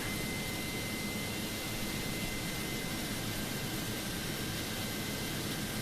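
Jet engines of an American Airlines Airbus A310 airliner in Microsoft Flight Simulator, at JFK airport, give a steady, broad, continuous roar with a faint high whine, holding at an even level throughout.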